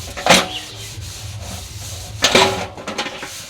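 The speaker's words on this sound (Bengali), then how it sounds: "ঘষে ঘষে পরিষ্কার করো" Decoration items being scrubbed clean by hand, with two short bursts of rubbing near the start and again midway, each against a low steady background hum.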